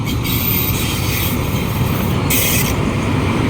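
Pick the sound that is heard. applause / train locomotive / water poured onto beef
train locomotive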